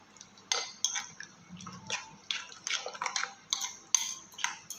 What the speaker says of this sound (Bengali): মিশ্রণটা কিন্তু মিশিয়ে নেব।